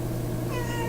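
A house cat gives a short, drawn-out meow close by, over steady low background hum.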